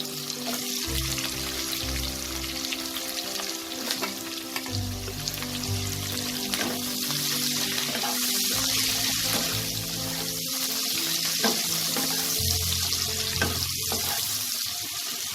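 Four medium chopped onions frying in a pan for Bengali chicken dak bungalow, a steady close sizzle with occasional stirring clatter and no talking.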